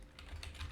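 A short burst of quiet, rapid keystrokes on a computer keyboard, several soft clicks in quick succession, close and alone.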